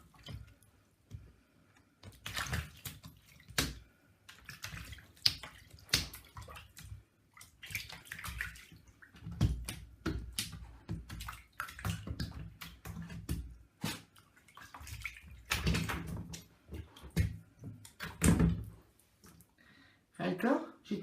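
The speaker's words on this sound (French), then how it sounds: "je vais te mouiller, je vais te laver" Water splashing and dripping while a pet is bathed and washed with a grooming product, in short irregular bursts close by, with speech over much of it.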